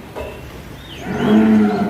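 A cow gives one loud, drawn-out moo close by, rising into a low bellow near the end.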